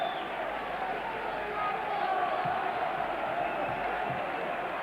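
Football fans sing in a packed stadium crowd at a Workington Town match in 1990-91, a continuous distant wash of voices that holds steady throughout.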